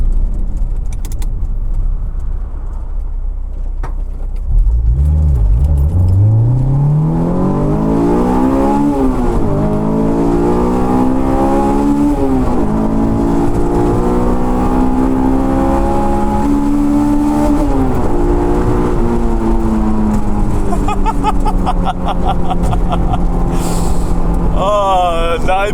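Honda S2000 AP1 engine revs hard toward its 9,000 RPM redline, a loud rising wail that climbs in several pulls after an idle start, with a voice talking over it.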